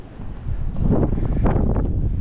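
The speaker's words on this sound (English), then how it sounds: "it is extremely windy" Strong gusting wind on a high mountain trail near Montezuma Pass in Arizona, buffeting the microphone in loud rushing surges that swell after a quieter start.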